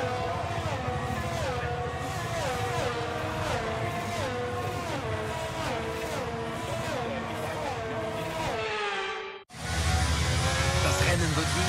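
Formula 1 cars roll through a formation lap in the racing game F1 23 on a sunny day at Barcelona, their engines droning loudly and continuously with rising and falling pitch, briefly cutting out near the end before resuming.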